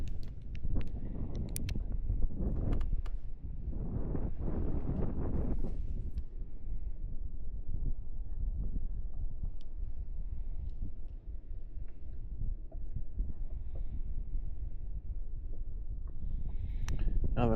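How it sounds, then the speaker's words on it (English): Wind blows steadily across the microphone while fishing for crappie, a low rumbling roar with stronger gusts in the first few seconds, then a sustained, fairly even buffeting with faint occasional knocks and no voices. "Now the wind picked up"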